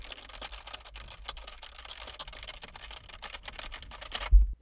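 Fast, frantic typing on a computer keyboard picked up by a Fifine Ampligame A8 microphone, a dense rapid stream of key clicks that ends in a heavier thump.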